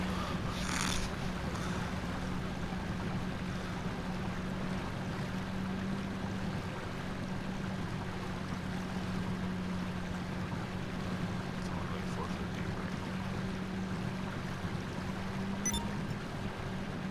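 A submarine moves through water in GTA V, a steady low engine drone under a constant wash of water and wind, even and unbroken for the whole stretch with no talking.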